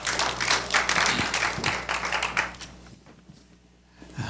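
A church seminar audience claps to welcome a lecturer onstage, loud dense applause for about two and a half seconds that thins to scattered claps and then fades away.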